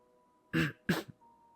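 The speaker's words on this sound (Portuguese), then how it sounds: "Alguém tossiu." Two short, close coughs in quick succession break a near-silent room with a faint steady hum.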